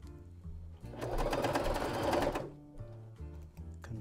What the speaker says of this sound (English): So start sewing